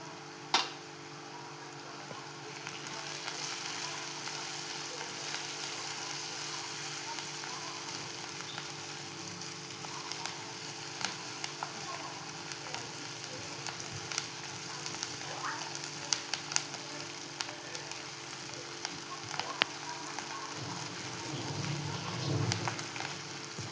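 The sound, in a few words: onion frying in pan with turmeric and asafoetida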